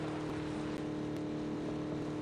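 Vehicle engine in PUBG driving steadily with a continuous droning hum, close and loud, with no talk over it.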